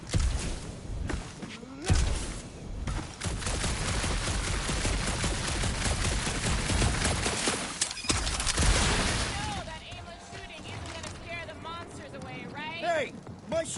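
Gunfire from Marvel's Guardians of the Galaxy video game, sustained bursts of shots and thuds across most of the clip in a dark alien forest, mixed with game music and chatter before fading into quieter ambience.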